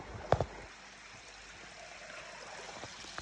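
In the forest at Arba Minch, Ethiopia, spring water runs with a steady, moderately loud rushing flow, broken once early by a short thump.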